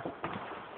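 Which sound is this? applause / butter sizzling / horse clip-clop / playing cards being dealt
horse clip-clop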